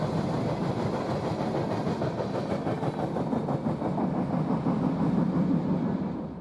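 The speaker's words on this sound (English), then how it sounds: "Running as the solo locomotive on this empty grain train was none other than CSX 1981" CSX freight locomotive 1981, running solo on an empty grain train along the Western and Atlantic line in Georgia, passes close with a loud, steady rumble and continuous rhythmic wheel clatter, with no voices.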